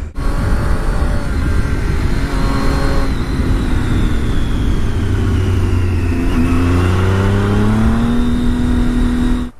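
A motorcycle ridden through hilly country with scenic rocky overlooks, its engine droning loud and steady throughout, pitch rising and falling as the rider shifts and changes speed, with heavy wind rush over it.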